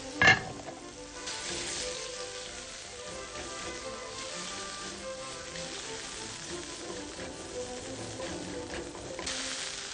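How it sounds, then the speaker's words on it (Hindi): Chicken mince frying in a little oil in a kadhai, a steady soft sizzle after a sharp initial clatter as it goes in, continuing evenly without talk. "एक कढ़ाई के अंदर आप थोड़ा सा तेल ले लें, और ये जो चिकन का कीमा उसको इसमें डालें"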